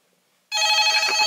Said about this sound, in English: Is the phone ringing?